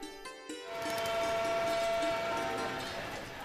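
A train rumbles and screeches along the rails, loud and steady after a brief quieter start, with a thin high whine running through it.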